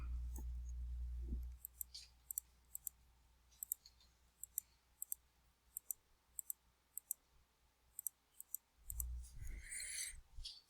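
Scissors trimming material in a run of regular sharp snips, about a dozen crisp clicks spaced under a second apart, close and fairly quiet, with low rumbling handling noise at the start and end.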